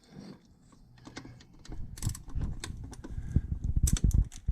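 A ratchet with a deep socket tightens a throttle body bolt tucked behind the engine of a Volvo, giving a run of quick close clicking bursts that grow louder and denser toward the end.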